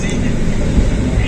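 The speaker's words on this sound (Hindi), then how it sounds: "115 किलोमीटर फी घंटा की रफ्तार से ट्रेन चल रही है इस वक्त।" A loud, continuous low rumble and rattle of a Pakistan Railways express train running at about 115 km/h between Lahore and Rawalpindi, steady and close for the whole moment.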